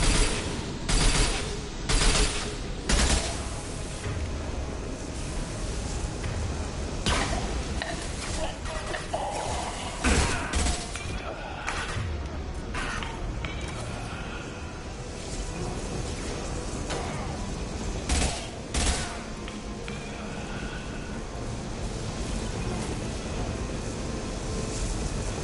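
Gunfire in Mass Effect 2 brings down a loose fuel tank during a combat encounter. Bursts of rapid shots repeat throughout, mixed with explosions and a steady rumbling game backdrop, with voices talking at times.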